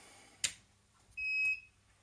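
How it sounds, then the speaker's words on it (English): A digital readout (DRO) gives a short electronic beep during its power-on self-test, ringing steadily for about a third of a second after a brief click, fairly close and clear against a quiet background. "It's beeping, so there we go, it's going through its self-test."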